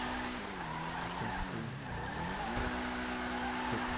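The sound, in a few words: car driving and skidding in GTA video game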